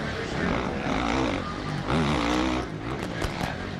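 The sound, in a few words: motocross bike engine over-revving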